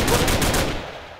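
A single gunshot in a Minecraft roleplay server game, a short loud close burst that fades away within about a second.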